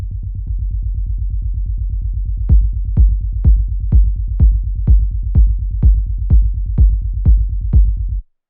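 Layered techno kick drum tuned in octaves with a sine wave bass underneath, starting as a fast, steady low pulse before punchy kicks land on a regular beat for several bars, then stopping abruptly.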